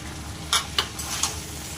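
Jackfruit biryani rice with rose water, nutmeg, mace, garam masala and attar is stirred in a pot, three quick scraping clinks over a soft, low sizzle, close and quiet with no talking.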